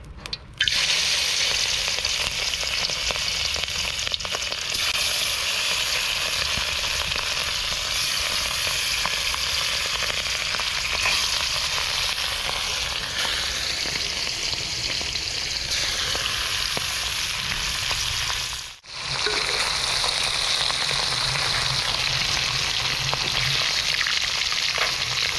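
Hilsa fish fries in hot oil in a home kitchen, giving a constant, dense sizzle that holds steady and close for the whole stretch, with only a brief dip near the end.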